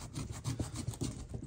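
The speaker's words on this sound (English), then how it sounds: "just deburring it to help it slide in" A metal part is filed and deburred by hand during an N54 engine direct injection delete, giving a faint, rhythmic rasping of repeated back-and-forth strokes.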